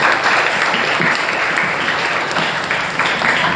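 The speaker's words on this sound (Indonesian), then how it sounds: "kita berikan tepuk tangan" A classroom full of people claps steadily, dense applause that holds at an even loudness from start to finish without a break.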